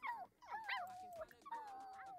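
A puppy in The Sims 4 whimpers and whines in high, wavering yelps, several short cries, close and quite faint.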